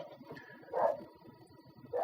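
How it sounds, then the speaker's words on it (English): A puppy whimpers and yips indoors, two short, faint high-pitched cries about a second apart against a quiet background. "The puppy dog's missing me,"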